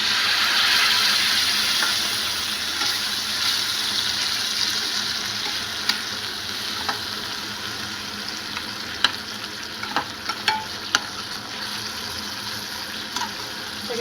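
Bengali spice paste of ground sesame, brain and tomato with green chilli frying in hot oil for katla kalia, a steady broad sizzle throughout with occasional sharp crackles and pops from about nine seconds on.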